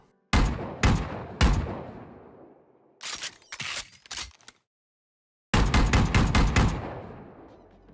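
The Bandit pistol fires in Valorant, three spaced loud shots, then a quicker burst of sharp cracks, a pause of silence, and a final rapid string of six close, punchy shots with short decaying tails.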